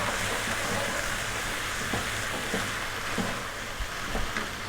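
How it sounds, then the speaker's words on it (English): Ginger garlic paste fries in a pan while being stirred vigorously, giving a steady, moderately loud sizzle with faint scraping clicks of the spoon throughout, no talk. "we're going to add in 2 tablespoons of ginger garlic paste, and we're going to stir vigorously for 60 to 90 seconds"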